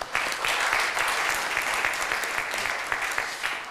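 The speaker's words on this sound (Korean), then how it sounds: "다시 한번 우리 패널 분들한테 뜨거운 박수 부탁드리겠습니다." Audience applause for a forum panel at the close of an event, steady and dense clapping from a sizeable crowd sustained throughout, fairly close and loud.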